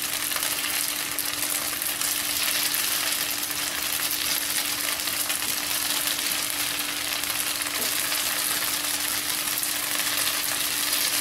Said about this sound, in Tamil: ஒரு பக்கம் ரோஸ்ட் ஆகட்டும்,